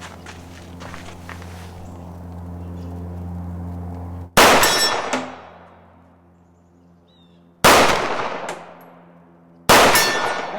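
Walther PDP pistol fired at a 24-inch steel gong 100 yards out on an outdoor range, three sharp loud shots spaced a few seconds apart, each followed by a decaying ring.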